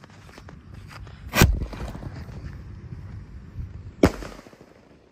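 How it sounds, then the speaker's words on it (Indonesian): A red 4-inch Bima Sakti Roman Candle firework fires two sharp outdoor bursts, one early and one about two and a half seconds later, over steady wind and background noise. "Ini Bima Sakti Roman Candle, siap kita nyalakan."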